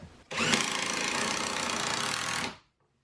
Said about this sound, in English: I'm going to go ahead and put a couple of screws in this direction just to keep it into place.